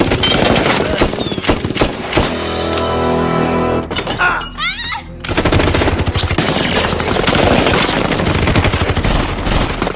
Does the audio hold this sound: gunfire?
yes